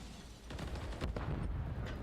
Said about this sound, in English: Explosions wrecking the map.